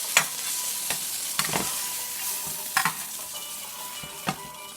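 A chicken quesadilla frying in a pan, with a steady hiss of sizzling oil and a few sharp spatula scrapes or taps at intervals, close and with no talking.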